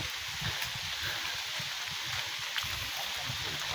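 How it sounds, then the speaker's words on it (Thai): Rain falls outdoors as a steady, soft hiss that carries on evenly throughout, with faint low rumbles underneath. "ฝนตก"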